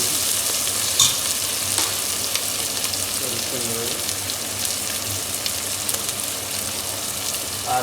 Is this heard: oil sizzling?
yes